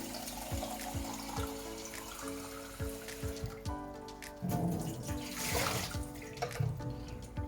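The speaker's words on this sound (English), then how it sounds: "Then rinse the water tank." Running tap water splashes and trickles steadily with clinks of plastic as a Nespresso Inissia coffee machine's water tank is rinsed, shifting to a fuller gush midway as the flow hits the container.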